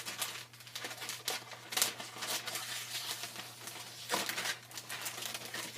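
Crisp crinkling and snipping of paper being cut, a steady run of small rustles and cuts close by, with no talking.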